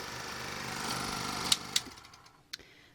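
A 1972 Bell & Howell 1535 16mm film projector running in fast rewind, a whirring mechanical drone that winds down, with a few sharp clicks near the end.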